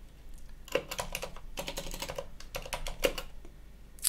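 Keystrokes on a computer keyboard, quick bursts of crisp clicks with short pauses between them, close up and fairly quiet, with no voices.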